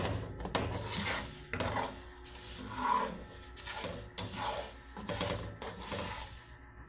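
Roasted quinoa and malunggay leaves are ground for coffee in short bursts of gritty mechanical whirring and rasping, broken by brief pauses, with no talking.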